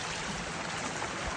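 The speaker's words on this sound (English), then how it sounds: "These little mountain streams are just all over." A small mountain stream on a Laurel Highlands day hike in March rushes steadily and close by, a dense, even wash of flowing water with no voices.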